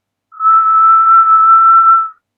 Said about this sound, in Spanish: Un silbido largo y agudo se coló entre las canciones